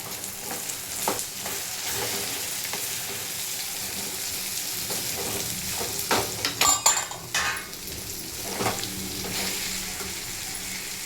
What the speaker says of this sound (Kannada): ಈಗ ಹಾಗಲಕಾಯಿ ಫ್ರೈ ಆಗಿದೆ ಎಣ್ಣೆಲಿ ಆಲ್ಮೋಸ್ಟು